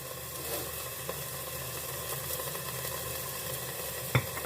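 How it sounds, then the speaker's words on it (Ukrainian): Steady sizzling of potatoes frying in oil in a pan, a continuous crackling hiss with a brief sharp clink near the end. "Олійки наливаємо так, щоб картопля добре смажилася в нас."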